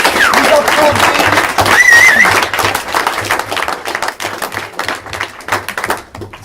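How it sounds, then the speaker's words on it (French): Audience applause at a project showcase, dense clapping that starts loud and gradually thins out over several seconds, with a few whoops and voices mixed in. "Vous pouvez vous féliciter, vous applaudir."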